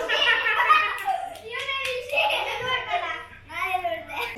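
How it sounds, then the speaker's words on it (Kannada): Hands clapping together at a child's birthday party, a few quick bursts of applause mixed with children's voices and nearby chatter. "ಇವ್ರಿಬ್ರು ಮ್ಯಾಚಿಂಗ್ ಹಾಕೊಂಡ್ ಬಂದಿರಂತ ಇವ್ರು ಚಪ್ಪಾಳೆ ಹೊಡಿತಿದ್ದಾರೆ."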